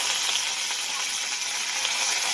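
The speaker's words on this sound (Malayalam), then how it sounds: "എണ്ണ ചൂടായതിന് ശേഷം കടുക് പൊട്ടിച്ച് കറിവേപ്പിലയും വറ്റൽ മുളകും ഒക്കെ ഇട്ട് കൊടുക്കുക" Mustard seeds splutter and crackle in hot oil with curry leaves and dried red chillies for a Kerala-style snake gourd thoran, a steady dense sizzle close by with no talk.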